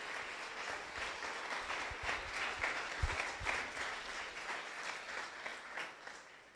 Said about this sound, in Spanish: le pedimos a los asistentes un fuerte aplauso para